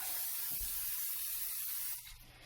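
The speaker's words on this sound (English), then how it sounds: "So I'm going to spray our other pan now." Cooking oil spray hisses from a can onto a baking pan in one continuous close spray lasting about two seconds, then cuts off.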